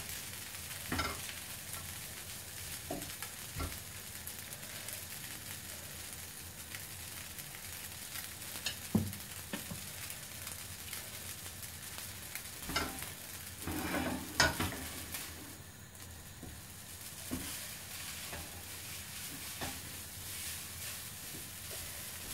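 Food sizzles steadily in a Teflon pan with occasional scraping and stirring clatters from a utensil, no voices.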